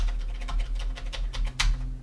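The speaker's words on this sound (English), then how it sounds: "Now, I'm typing, this is a test." Rapid keystrokes on a Commodore 64 keyboard, a steady run of close, clicky taps with a sharper louder press near the end over a low electrical hum.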